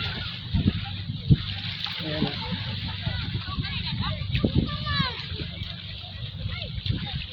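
Splashing and sloshing of feet wading through shallow water, with people talking throughout and birdlike calls in the background.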